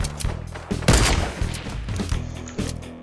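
Heavy assault rifle gunfire in the video game Fortnite, several close, loud bursts of shots in quick succession with thumping impacts.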